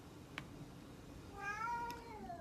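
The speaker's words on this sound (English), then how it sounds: "My kitties are agreeing with me." Cats meowing indoors, one short chirp and then a drawn-out, rising-and-falling meow, moderately close over a quiet room hum.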